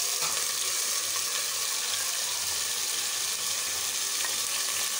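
Ginger garlic paste, sliced tomatoes and onions frying in a pan, giving a steady, dense sizzle that holds evenly throughout with faint stirring sounds.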